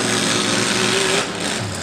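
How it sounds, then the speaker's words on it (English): A demolition derby car engine at a county derby being refired, rattling at a high, buzzy idle close by and loud, then dipping slightly as it settles, with flames sputtering from the exhaust. "He's trying to refire that machine now."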